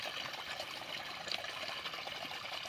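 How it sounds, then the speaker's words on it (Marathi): Water gushing and trickling steadily like a spring feeding a well, a continuous close hiss and splash that runs the whole time with no voices over it. "जणू काय कुठं झरा असा विहिरीला झरा लागलेस कसं वाजायचं तसं बघा कसं पाणी वाजायला लागले."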